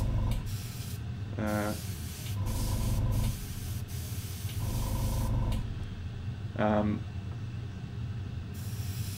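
Paint sprays from a spray gun onto paper towel or white paper in several separate bursts, each a steady loud hiss lasting about a second, with short pauses and brief speech between them.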